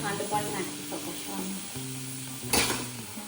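Garlic-chili paste sizzles as it fries into kadhi, a soft steady frying hiss under a spoon stirring and clinking against the pot, with a brief sharper scrape near the end; a voice is faintly present.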